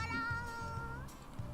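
A catgirl character in the Nekopara video game gives a short, close, voiced meow-like sound with a rising and falling pitch over a low pulsing rumble.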